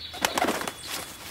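A cartoon bird calls in a short burst of bright, chirpy cooing notes, close and moderately loud, lasting just over a second with no talk.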